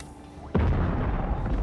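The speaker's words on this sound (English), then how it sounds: "One explosion after another." A sudden deep explosion in Dune: Awakening bursts in after a quiet stretch, then rolls on as a long rumbling, crackling roar with no speech.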